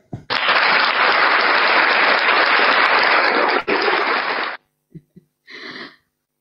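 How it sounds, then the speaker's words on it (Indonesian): Audience applause at an evening Indonesian religious debate event, a dense burst of clapping for about four seconds that cuts off abruptly, followed by a couple of brief knocks and a short voice. "kalau masih mau tepuk tangan, waktu dan tempat masih diberikan."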